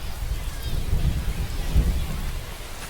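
Heavy rain falls with low thunder in a baseball video game, a dense steady hiss and rumble filling the whole stretch.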